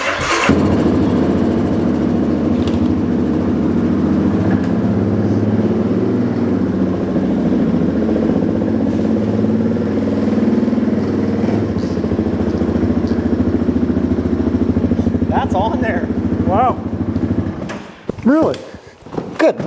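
A quad (ATV) engine starts and settles into a steady, close running idle, with people talking briefly near the end.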